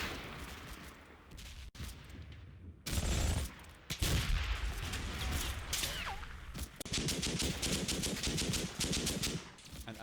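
Mortar and rifle fire in the World War II strategy game Combat Mission Fortress Italy, fighting near a vineyard at Borgo Cascino: dense bursts of rapid gunfire with heavy thumping impacts, continuous and fairly loud throughout, with no voices.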